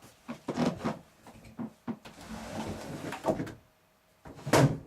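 A series of wooden knocks, scrapes and rumbling slides as a jammed sliding door is forced open, several separate bumps then a longer grinding movement and a final loud thud, close by.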